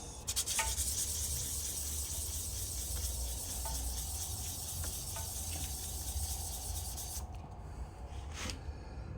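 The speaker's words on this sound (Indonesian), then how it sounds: "lalu diamplas pakai amplas halus seperti tadi Mas Bos" Continuous fine scratchy rubbing of fine sandpaper on brass, steady back-and-forth strokes close by, stopping briefly near the end.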